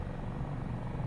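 Steady, dense rotor and turbine drone of an Airbus Dauphin medium twin-engine helicopter in flight in Microsoft Flight Simulator, continuous and loud with no voices.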